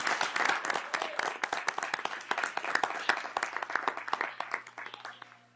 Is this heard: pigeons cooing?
no